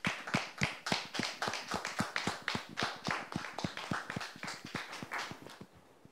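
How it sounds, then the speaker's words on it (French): A church audience applauds guests being welcomed, a small group clapping in a loose, steady rhythm of distinct close claps that thins and fades toward the end. "Merci de les recevoir avec vos applaudissements"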